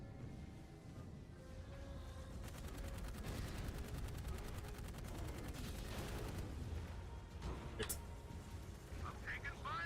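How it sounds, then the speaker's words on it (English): Video game gunfire in Dark Void, fast rattling bursts of automatic fire and booms that run without a break, heard fairly faint and mixed with game noise. "I'm taking fire. Oh my. We're all taking fire, buddy."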